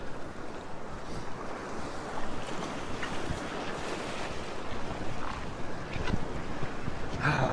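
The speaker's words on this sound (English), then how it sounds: "Let's go and get over and get in amongst the waves." Ocean waves breaking at Currumbin beach, Queensland, Australia, heard as a steady broad wash of surf with wind buffeting the microphone throughout, continuous and fairly loud with no speech.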